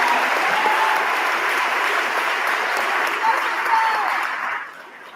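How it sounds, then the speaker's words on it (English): An audience at a school awards night claps in steady, full applause that holds for several seconds, then begins to fade at the end. "Let's give these two a big round of applause."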